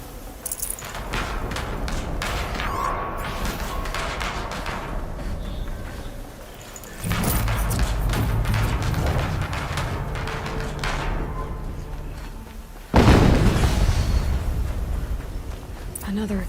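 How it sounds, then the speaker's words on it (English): Explosions in the video game Horizon Zero Dawn Remastered, a heavy burst with a broad wash of rumbling noise arriving around the midpoint and another sharper blast near the end, over continuous game ambience and a voice talking. "Another explosion."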